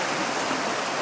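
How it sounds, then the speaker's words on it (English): A water stream along the Art Loeb hiking trail rushes steadily with dense, even broadband splashing, close and continuous, with no voices. "We found another water stream."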